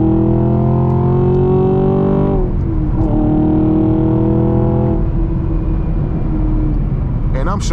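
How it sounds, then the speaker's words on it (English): Camaro 2SS 1LE V8 with stock exhaust revving and pulling through gears with deliberately slow shifts, a loud close rumbling drone that rises in pitch, drops at each shift around two and five seconds, then climbs again. "I was just slow shifting the car"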